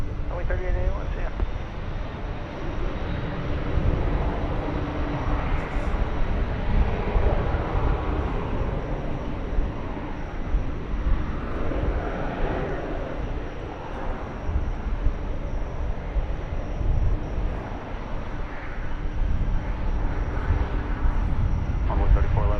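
Jet airliners on the runway at DFW Airport, a steady distant engine roar rumbling continuously throughout with a faint background hum and no clear talk.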